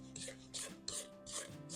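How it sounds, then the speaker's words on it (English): A spatula scrapes down the sides of a mixing bowl of apple cake batter in repeated soft strokes, about four or five rhythmic rasping sweeps, close but fairly quiet, with no talking. "We're going to scrape down our bowl."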